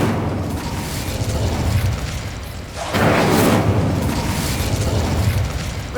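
An Incendio fire spell is cast in Hogwarts Legacy. A loud whooshing burst of flame swells over a continuous rumbling bed and holds for a few seconds.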